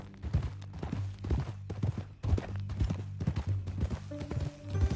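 Horse hooves clip-clop steadily in Red Dead Redemption 2, a close, rhythmic trot of repeated thuds running through the whole stretch with a low rumble beneath and no speech.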